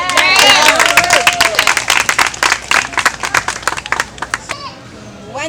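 An audience claps steadily and loudly at a live talk event, with dense overlapping hand claps and a few voices mixed in, then tapers off near the end.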